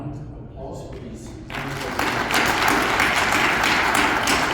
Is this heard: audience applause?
yes